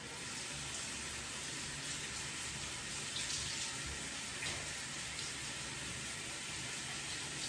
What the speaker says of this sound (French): Je vais rincer complètement.